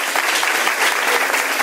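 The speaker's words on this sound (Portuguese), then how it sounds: "Vamos aplaudir a palavra do Senhor Jesus" A church congregation applauds during a service, a dense, steady wash of many hands clapping together, loud and continuous with no talk over it.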